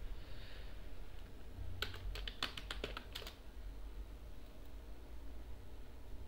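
A short burst of keystrokes on a computer keyboard, about a dozen quick close clicks clustered in the middle, entering a terminal command on Ubuntu Linux over faint steady background hiss.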